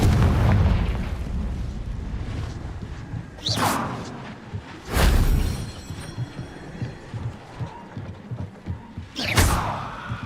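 A Confringo fire spell from Hogwarts Legacy bursting in loud, close explosions: a deep boom up front, then three sharp blasts spaced a couple of seconds apart, with smaller crackling pops between them.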